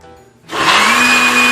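Kitchen blender starting up with a sudden loud motor whine and steady high-pitched hum as it churns a peanut butter and jelly sandwich with milk, sustained after a brief quiet lead-in.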